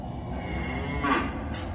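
Cattle in farm pens give a single drawn-out moo, moderately close, over a steady rural background hum.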